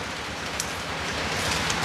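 Rain falling outdoors during a solar light installation, a steady broadband hiss of drops hitting surfaces with a couple of sharper drip sounds, continuous and fairly close, without voices.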